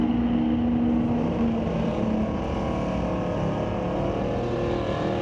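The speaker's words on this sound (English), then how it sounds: "Big wheelie by Matt Warner in that 66 Mercury" A 1966 Mercury drag car roars off the line at Mission Raceway Park in a bracket race, its loud, steady engine noise filling the whole stretch with little change in pitch.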